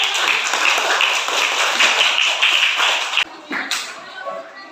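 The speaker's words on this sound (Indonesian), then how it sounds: "Tepuk tangan dulu." Students in a classroom clap together after a group presentation, a dense, loud burst of hand claps that stops abruptly near the end, with a few scattered claps and voices afterward.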